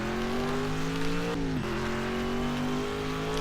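Engine of the heavier, less powerful green-and-white Mercedes racing car driven in Project CARS, a steady loud drone with a brief dip in revs as it changes gear, then a smooth climb back up.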